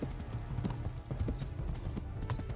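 Horse hooves gallop in the medieval role-playing game Kingdom Come: Deliverance, a steady, close clip-clop rhythm of repeated hoof strikes running throughout at moderate loudness with no talking.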